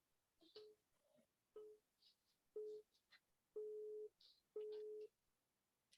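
Telephone busy signal sounding as repeated short even beeps in a quiet room, several pulses at regular intervals with small faint noises between them.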